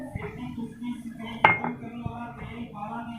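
A spoon mixes gram flour batter for potato and eggplant pakoras in a bowl, giving soft scraping and a few light clinks against the bowl, with one sharper knock in the middle over a low background hum.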